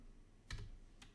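Keystrokes on a computer keyboard during a computer club lesson, a quick pair of taps followed by one more a half second later, close and fairly quiet.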